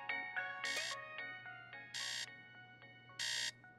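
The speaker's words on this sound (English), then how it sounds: "Jeepers, is that the bat phone?" A cartoon bat phone rings in repeated electronic ringtone bursts, a tonal trill alternating with brighter buzzing pulses, loud and clear with no voices over it.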